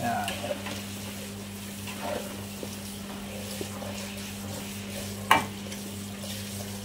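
A soft, steady sizzle of blended spice paste sautéing in oil for rendang, with a low hum underneath and an occasional clink of a utensil against the pan.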